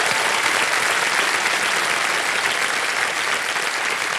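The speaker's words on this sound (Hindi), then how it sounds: "एक बार फिर तालियां बज जाएं सुधीर कुमार जी के लिए" A studio audience at a televised quiz show applauds steadily and loudly, a dense, continuous wash of clapping with no pauses and no talk over it.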